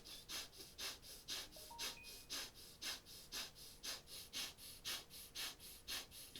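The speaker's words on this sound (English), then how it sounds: "you're doing breath of fire here" Rapid rhythmic breath of fire yoga breathing through the nose, about three sharp, hissy exhalations per second repeating steadily and close up, with no talking.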